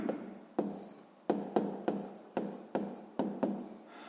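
Pen writing out a sixth-grade math solution by hand on paper, a close series of short scratchy strokes repeating every half second or so, with no voice over them.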